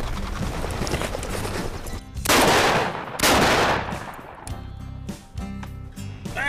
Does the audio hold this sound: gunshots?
yes